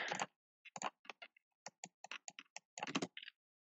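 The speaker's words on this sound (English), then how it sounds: "Epic typing." Rapid computer keyboard typing in bursts of crisp clicks with short pauses between, close and alone with no talk, during competitive programming.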